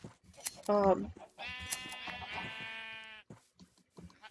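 Sheep bleat in the Minecraft video game, a short call followed by a long, steady, tonal bleat that lasts over a second, fairly close and clear amid quiet game sounds.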